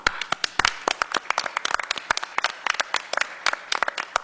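An audience at a school board meeting claps for a few seconds, the sharp hand claps sparse and uneven rather than a dense ovation, heard close with no talk over them.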